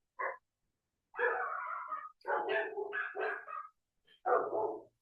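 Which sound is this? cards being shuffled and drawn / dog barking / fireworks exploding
dog barking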